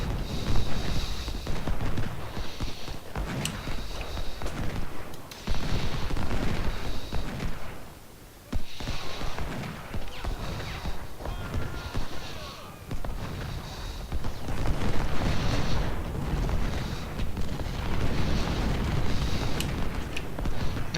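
Cannon fire in a Civil War battle video game at Thoroughfare Gap: scattered heavy booms over a constant crackle of battle noise, with a voice faintly present at times.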